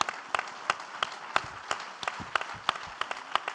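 Audience applause for a guest speaker, a senior partner at McKinsey & Company, at a talk event: steady clapping from a moderately sized crowd with sharp individual claps standing out, continuous for several seconds.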